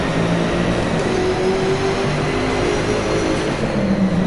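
A loud, continuous high-revving engine roar with a jet-like whine, steady throughout, from a race car at speed in the racing game DRIVECLUB.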